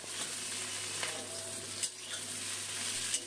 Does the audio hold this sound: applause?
no